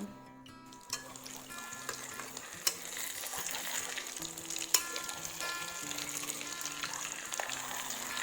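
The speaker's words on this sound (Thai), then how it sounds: "ทอดด้วยน้ำมันร้อนก่อนนะคะ แล้วค่อยเบาไฟทีหลัง" Beaten egg omelette frying in hot oil in a pan, a steady crackling sizzle throughout with occasional sharper pops and faint background music, no talk.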